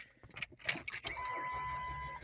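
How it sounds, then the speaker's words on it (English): A truck engine cranks in freezing cold with a few clicks and rattles, then catches and settles into a steady idle with a faint high whine, heard close by. "I'm gonna start my truck so that I can make sure it's gonna start up"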